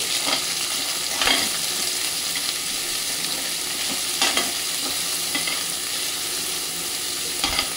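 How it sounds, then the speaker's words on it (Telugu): Onions and green chillies fry in a pan with cloves and cinnamon for a paneer tomato curry. A continuous sizzle is broken by several sharp spoon scrapes and stirring knocks, close and steady, with no talking. "కట్ చేసి పెట్టుకున్న ఆనియన్స్, పచ్చిమిర్చి వేసుకొని ఫ్రై చేసుకోండి"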